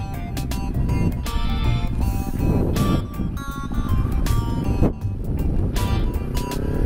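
A manual motorcycle engine revs in first gear, rising and falling bursts of engine tone with brief gaps between throttle blips, close and moderately loud.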